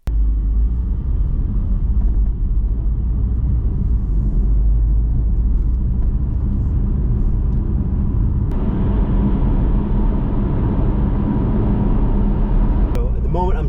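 Porsche 718 Cayman GTS 4.0 driving down a back road with the windows down, a steady low engine rumble and road noise throughout, swelling a little in the latter half.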